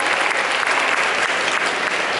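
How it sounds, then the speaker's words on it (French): An audience at a Paris Manga convention panel with international actors applauds, a dense, even wash of clapping sustained for a couple of seconds with no pauses. "Merci beaucoup, on peut l'applaudir s'il vous plaît."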